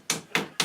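Three sharp, evenly spaced hammer strikes drive nails into soft wood, each blow a crisp close knock followed by a brief ring-off, with no talking.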